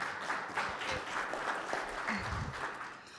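Steady applause from a crowd at a city safe streets meeting, many hands clapping at once, dense and continuous for a few seconds with a faint voice underneath.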